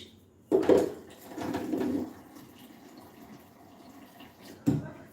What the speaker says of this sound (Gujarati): થોડું પાણી એડ કરીશ